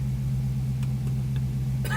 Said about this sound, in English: Let the car run for a couple minutes.